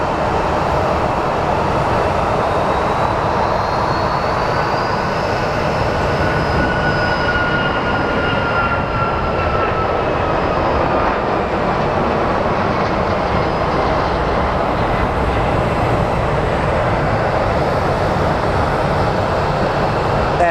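A CRJ regional jet taxis at Phoenix Sky Harbor airport, its engine noise a steady loud rumble with a faint whining tone that slowly shifts in pitch throughout.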